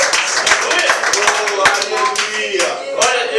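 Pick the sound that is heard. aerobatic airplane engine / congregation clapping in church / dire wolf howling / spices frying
congregation clapping in church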